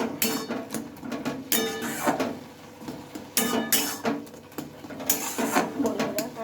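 Semolina being stirred into mashed raw potato, a run of irregular scraping and clattering knocks of a utensil against a bowl, fairly close and steady, with faint talk in the background.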